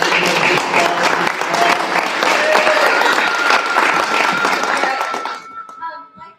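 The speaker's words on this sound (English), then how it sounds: "let's give everybody a round of applause for making this class." A room of people at a spelling bee class applauds in sustained loud clapping for several seconds before it fades out, with voices mixed in.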